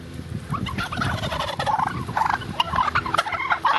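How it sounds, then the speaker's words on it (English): Wild turkeys gobble near a parked car in Massachusetts, a loud, close chorus of overlapping rattling gobbles running continuously with no talk. "our interactions with turkeys are usually a little more like this"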